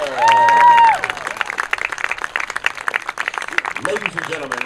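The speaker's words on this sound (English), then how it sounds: "let's give a big round of applause for our Madonna softball senior class." A crowd at a Madonna versus Concordia college softball doubleheader applauds the senior class, with dense clapping and scattered cheers after a brief high whistle-like call at the start.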